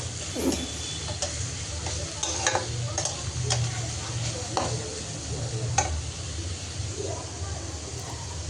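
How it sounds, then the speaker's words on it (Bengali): Chopped onions and onion stalks frying in a pan and being stirred, a steady sizzle with scattered scraping and tapping clicks from the utensil, close and continuous. "তো একটু নেড়ে চেড়ে পেঁয়াজটা আমি ভেজে নিয়েছি।"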